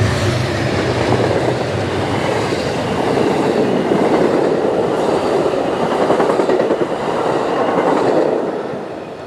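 Amtrak Lakeshore Limited passenger train passing close by, a loud continuous rush of wheels and cars with rhythmic clickety-clack, swelling and easing over several seconds with no voices.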